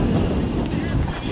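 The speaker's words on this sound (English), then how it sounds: "it's very windy now" Strong wind buffets the microphone outdoors during a tour by a boat or train, a loud continuous low rumble filling the whole moment, with speech mixed in.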